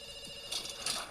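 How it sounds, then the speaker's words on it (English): A telephone rings with bright, repeated bursts over a steady electronic tone, fairly faint and alone with no voices. "we pick up the phone because it's ringing"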